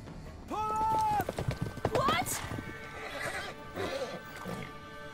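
An exhausted horse in The Witcher 3 gives a loud whinny over steady hoof clip-clops, then its hooves keep trotting on in a regular rhythm before slowing and fading slightly.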